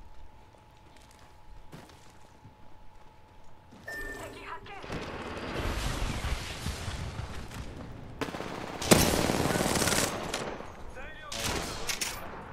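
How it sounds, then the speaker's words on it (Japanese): Rapid gunfire bursts in the video game Apex Legends crackle loudly and densely after a quieter start, with sharp peaks and a voice speaking around the shots. "撃ってる音、あーライフラインじゃん"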